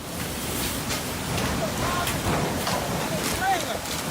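Strong hurricane winds roar steadily and loud through an open outdoor scene where a shipping container and an 18-wheeler trailer are being thrown about, a broadband rushing gust with faint brief whistles and no talk.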